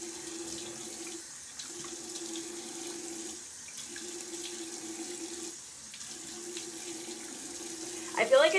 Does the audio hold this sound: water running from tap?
yes